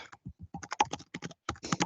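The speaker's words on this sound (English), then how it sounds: "Someone is typing, sorry." Rapid, irregular keystrokes on a computer keyboard during an online meeting, clicking in close bursts with short pauses, fairly near and alone without talk.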